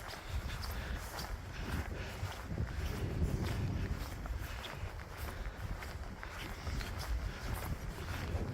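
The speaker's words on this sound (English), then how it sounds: "The wind has picked up a little bit. Got the wind right in our face here now" Steady wind gusting on an exposed coastal trail, a continuous low rushing roar with microphone buffeting, mixed with footsteps on the path; no talk.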